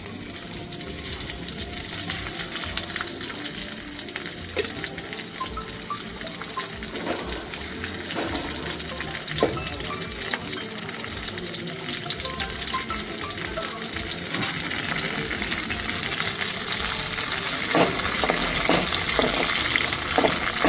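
Green chillies fry in a pan with a steady, dense crackling sizzle that carries on for a long stretch and grows slightly louder toward the end, with occasional stirring knocks.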